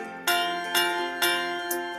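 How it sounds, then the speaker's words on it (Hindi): A school bell rings on the first day of school, with four bright, ringing strikes about half a second apart, each one sustaining and overlapping the next, close and clear with no voices. "सुनो घंटी बजी स्कूल की"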